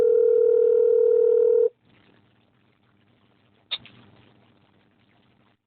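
A loud, steady telephone dial tone holds for under two seconds and then cuts off, followed by a quiet line hiss and a faint click or two.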